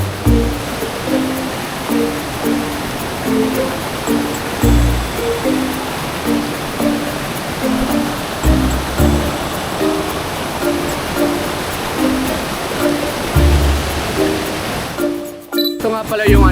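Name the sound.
Hidden Falls waterfall and stream in Bulusan, Sorsogon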